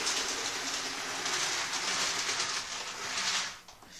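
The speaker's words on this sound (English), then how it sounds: "I just stopped the train there." An OO gauge model train runs along a home layout, giving off a steady, close whirring and rattling from its wheels and motor that cuts out abruptly near the end as it stops.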